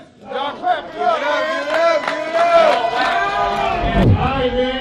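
Rap battle league crowd erupting close by at a championship match, a dense mass of voices yelling and hollering in overlapping bursts that build and hold loud.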